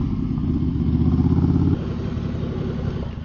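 A Ducati motorcycle engine runs steadily up close, a low throbbing rumble that shifts to a slightly lighter, uneven beat partway through, with no talk.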